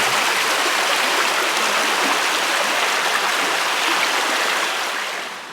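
Creek water rushes steadily over moss-covered rocks along a creek bed, a dense, continuous close-up gurgle that fades slightly at the end, with no talking.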